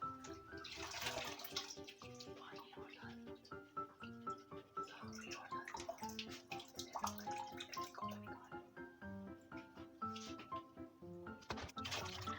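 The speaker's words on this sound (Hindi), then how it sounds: "तो इसे हम साग को 3 दफ़ा धोएंगे।" Mustard greens and spinach being washed by hand in a basin of water, with repeated sloshing, splashing and dripping in uneven bursts, close and fairly quiet, no talking over it.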